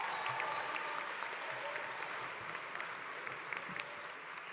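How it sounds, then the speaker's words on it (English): An audience at the UT Austin presidential inauguration and investiture gives a faint, steady round of applause heard from a distance, with a few sharper individual claps standing out. "Let's give Taylor another round of applause"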